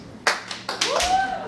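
A small comedy-show audience claps once, a short scattered burst of hands from a handful of people in a room, followed by a faint murmur.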